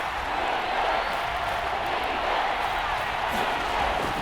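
A stadium crowd in Madden NFL 22 cheers in a steady, dense roar throughout, loud and continuous during a Bears vs. Lions Thanksgiving football game, with no clear individual voices.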